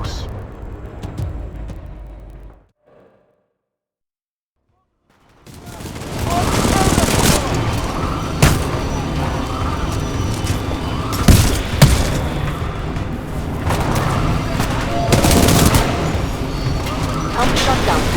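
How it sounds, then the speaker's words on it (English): Gunfire from the video game Titanfall 2 erupts after a brief silence, with sustained rapid fusillades, sharp shots and booming impacts layered over dense combat noise, while a game voice speaks. "Commencing supporting fire."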